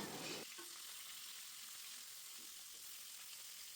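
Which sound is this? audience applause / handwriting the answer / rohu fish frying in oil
rohu fish frying in oil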